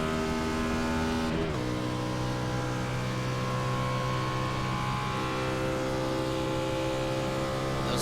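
Race car engine screaming at high revs on the Pocono track in the iSCAR racing game, a loud continuous whine with a brief dip as it shifts, then holding steady near the top.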